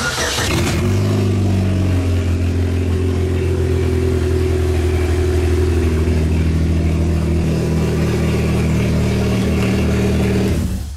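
A car engine cranks and catches, then roars loudly and steadily, revving with a deep rumbling drone that holds for several seconds before cutting off.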